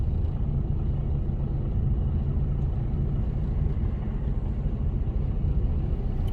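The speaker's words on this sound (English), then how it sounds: "There's a big queue of traffic here." A queue of road traffic with trucks and cars, a steady low engine rumble that holds even and fairly loud throughout, no distinct passes and no talk.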